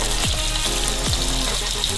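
Fish fries in a hot pan with a loud, continuous sizzle, broken by a few sharp pops and spits of oil.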